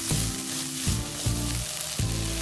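Chopped green chilies sizzle steadily in hot oil in a pan for egg bhurji, with several soft stirring scrapes breaking the continuous close frying sound.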